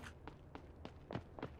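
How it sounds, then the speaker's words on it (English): Footsteps on stairs in the Call of Duty DMZ video game, about six evenly spaced thudding steps over under two seconds, moderately near and clear, with no talk over them. "I hear footsteps."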